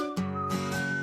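A melodic whistled tune from a radio advertisement for term life insurance, a short bright phrase of steady held notes heard on its own without any talk.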